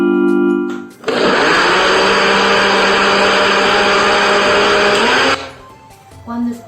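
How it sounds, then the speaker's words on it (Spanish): A kitchen blender runs at full speed in one loud, steady whirring burst of about four seconds, then switches off, close by, with a brief spoken phrase before it and faint sounds afterward. "Eso es una licuadora."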